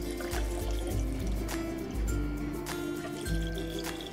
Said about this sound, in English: we're going to add enough water to cover the vegetables